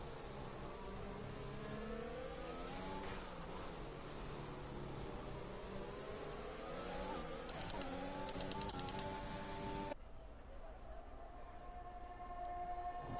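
F1 2021 video game cars racing under green flag, a continuous high whining engine drone with rising and falling pitch as cars pass, fairly faint, with a shift in tone near the end.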